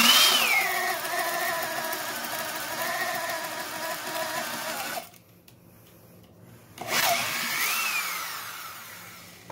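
A Milwaukee 3/8-inch heavy duty Hole Shooter drill bores into a test piece of lumber with a 1-inch auger bit, its motor whining steadily under load, cutting out for a couple of seconds, then spinning back up.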